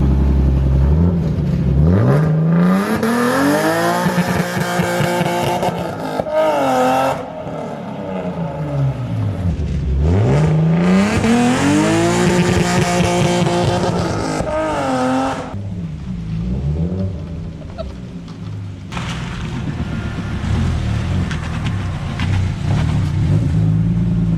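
BMW E36 engine starting and warming up, revving repeatedly with rising and falling pitch sweeps, loud and close, with choppy gaps between blips and a rougher idle near the end.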